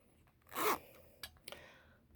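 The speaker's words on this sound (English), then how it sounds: "the zipper is harder to open" A short zipper pull rasps open up close on a Longchamp Le Foulonné Continental leather wallet, followed by a couple of small clicks and taps in a quiet space.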